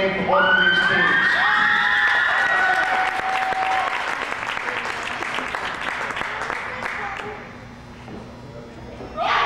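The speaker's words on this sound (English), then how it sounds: "Let's have a fine round of applause for a very well played game from both of these teams." A crowd at a freshman volleyball game breaks into loud applause with cheers and scattered shouts, rising quickly, holding steady, then thinning out toward the end.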